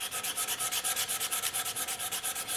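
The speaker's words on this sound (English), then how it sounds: "do quite a bit of hand sanding" Steady, rhythmic rasping strokes of sandpaper rubbed back and forth over the wooden body of a bass guitar, close up, about eight strokes per second with no talking.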